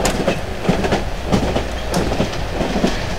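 A train rolls past in the horror game Cry of Fear, with rhythmic clickety-clack wheel beats over a loud, continuous rumble, close and steady.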